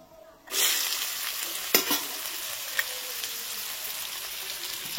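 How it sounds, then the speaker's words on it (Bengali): Finely diced carrots are stir-fried in a pan, a dense sizzle that bursts in after a quiet start, with a few stirring clacks over the steady frying hiss, close and without talk. "হালকা নেড়ে চেড়েই দিয়ে দেবো গাজর"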